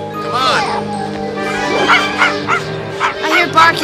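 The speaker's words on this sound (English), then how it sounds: "I hear barking, Skip, don't you?" A dog barks and yips in a quick run of sharp, close calls, with a voice speaking underneath.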